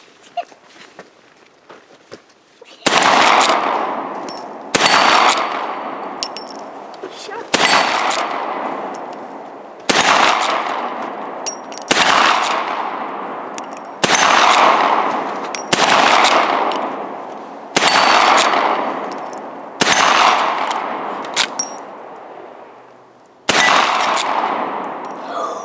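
Nine loud, evenly spaced gunshots ring out outdoors at steel AR500 targets, each sharp crack followed by a long decaying echo.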